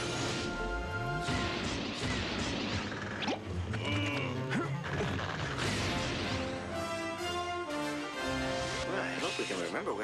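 Cartoon spaceship crash landing, a dense chaotic run of crashing, smashing and mechanical clatter with whooshes and rumbling impacts, loud throughout, with characters' voices and music mixed in.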